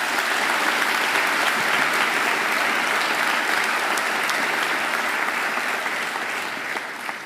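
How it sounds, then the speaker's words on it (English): Graduation ceremony audience at Macquarie giving a sustained round of applause, dense and even from a large crowd, easing slightly near the end. "I think he deserves another great round of applause"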